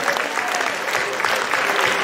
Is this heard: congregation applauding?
yes